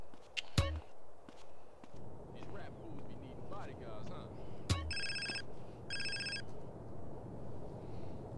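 Mobile phone ringtone from the video game GTA San Andreas: two short bursts of bright electronic ringing, loud and clear, following footsteps and a couple of sharp thuds over steady game background noise.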